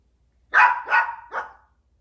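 A dog gives three quick, close barks, the last one softer and trailing off, in a quiet indoor room.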